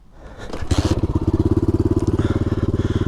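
A dirt bike idling in neutral, its engine pulsing in a steady, rapid low thump after a brief rise, loud and close.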